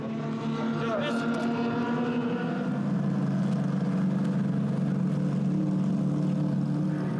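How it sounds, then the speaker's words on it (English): A Class 1 racing powerboat driven by two 8-litre Lamborghini engines roars steadily at high power, its dense engine drone shifting pitch partway through, loud and continuous beneath a narrating voice. "Chris replaced Randy at the throttle of the two 8-litre Lamborghini engines."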